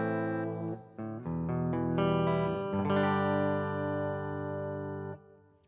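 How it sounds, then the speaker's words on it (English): Clean electric guitar notes from a neck pickup through a Laney Ironheart IRT Pulse ring out one after another, building into a sustained chord that fades with a soft reverb tail. "Clean signal with a bit of reverb from my DAW"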